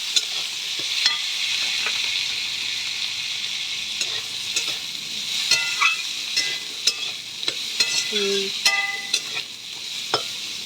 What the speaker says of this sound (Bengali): সিদ্ধ করে রাখা আটিগুলো দিলাম তেলে ভালো করে ভেজে নেব